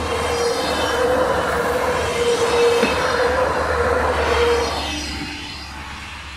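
A Eurobahn regional train rolls past a level crossing on the Espelkamp–Rahden line, a loud, sustained rumble with a thin wheel squeal that drops away after about five seconds as the train moves off.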